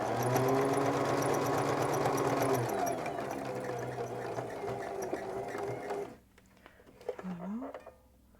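A sewing machine runs a straight seam on a sweatshirt dress, 1.5 cm from the folded edge, with a loud, steady motor whir for about six seconds, then stopping, followed by quieter handling and a brief voice.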